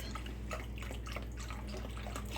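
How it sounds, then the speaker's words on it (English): Chicken broth, 32 ounces of it, pours into a simmering pot of homemade tomato soup with a steady splashing, dripping flow over a constant low kitchen hum, close and moderately quiet. "Okay, let's pour in the chicken broth."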